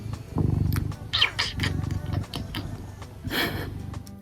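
A fat, chubby house cat purrs close up in steady rumbling waves, broken by a few brief sniffs and rustles, with no one talking.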